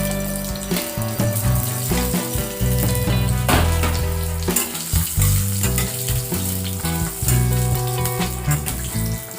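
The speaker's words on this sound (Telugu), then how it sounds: "నెక్స్ట్ కట్ చేసి పెట్టుకున్న ఆలు పీసెస్ ఫ్రై చేసుకుందాం." Potato pieces fry in oil with mustard seeds, cumin and cloves, a loud, steady sizzle with crackling pops and occasional stirring scrapes, close up and without talk.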